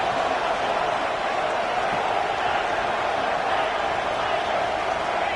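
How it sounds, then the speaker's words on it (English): A football stadium crowd in a tough road environment for visitors roars steadily, a dense, continuous wash of cheering and noise that holds at a constant level for the whole stretch. "Listen to the crowd energy here in the early going."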